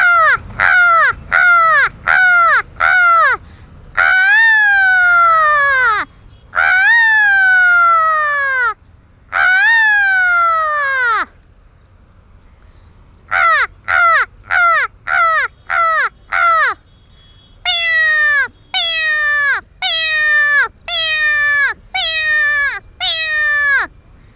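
A girl imitates a crow's caw with her voice, delivering loud, close bursts of harsh descending calls in quick runs of four to six, broken by longer drawn-out caws and short pauses, with no other sound.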